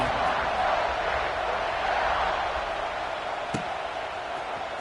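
A college football stadium crowd keeps up a steady, broad roar of cheering, with one brief thud partway through.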